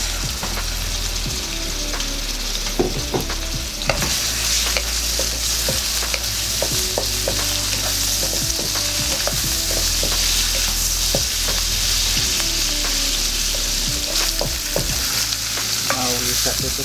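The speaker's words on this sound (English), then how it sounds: "Put in our sesame oil. Then we put in our prawns." Prawns frying in sesame oil in a wok, with a loud continuous sizzle and repeated scraping stirs of the spatula throughout, no talking.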